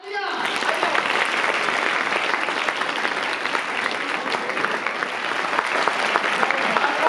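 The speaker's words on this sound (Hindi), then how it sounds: "दीपिका चौधरी के लिए फिर तालियां।" Audience applause fills a school quiz competition at a girls' school, steady dense clapping from many hands sustained for about seven seconds at an even, fairly loud level.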